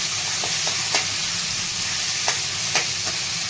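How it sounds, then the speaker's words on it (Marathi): Tomatoes sautéing in hot oil, a loud steady close sizzle broken by a few quick stirring scrapes, no talking. "टमाटर थोडंसं असं तेलामध्ये चांगलं परतून द्यायचं."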